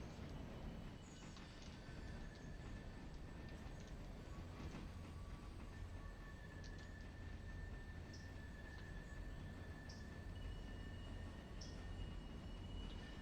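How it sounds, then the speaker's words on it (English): Locomotive and freight cars running in the railroad game Railroader, a continuous loud rumbling roll with faint high wheel squeals and brief clanks throughout, no talk. "we'll take the train up to Alarka Junction"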